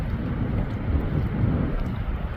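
Strong wind buffets a microphone beside Doubtful Lake, Washington, producing a loud, continuous low rumble that never lets up, with no voices.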